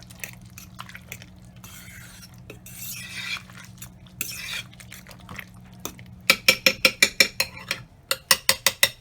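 Cheese being stirred into macaroni noodles in a crockpot, wet squelching and scraping at first, then a run of sharp, evenly spaced clinks of a utensil against the pot near the end.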